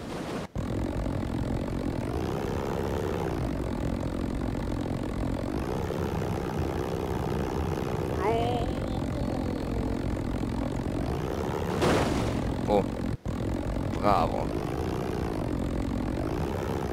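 Aircraft propeller engine in BeamNG.drive, a loud continuous droning hum that wavers slightly in pitch, with brief dropouts and a couple of short higher whines near the end.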